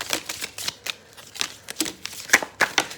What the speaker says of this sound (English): Let me just shuffle them a little.